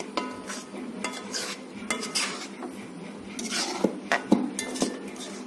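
A spoon scrapes and clinks against a pot while banana kheer is stirred off the heat, with irregular metallic knocks and scrapes, some louder near the end.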